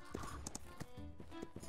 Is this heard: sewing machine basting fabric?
no